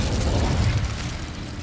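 The Incendio fire spell is cast in the video game Hogwarts Legacy, giving a deep, rumbling whoosh of flame that roars low and loud for a moment, then eases slightly, alone without talk.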